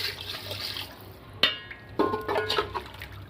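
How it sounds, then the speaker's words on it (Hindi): A glass of water is poured into a pot of chicken kofta biryani base with tomatoes, giving a short splashing pour with a sharp clink, then a burst of gurgling liquid; close and clear, no talking. "अब इसमें हम 1 गिलास पानी डालेंगे"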